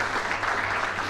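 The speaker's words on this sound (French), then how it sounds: "On vous applaudit chaleureusement." Audience at a French science talk applauds warmly, a dense, even clapping lasting about a second with no speech over it.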